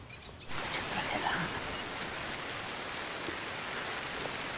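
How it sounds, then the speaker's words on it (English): Heavy rain pours steadily on oak trees at a Norfolk broads nature reserve, a dense, loud hiss that swells after a quieter first half second and holds constant throughout, with no talking. "It's a full-on downpour now."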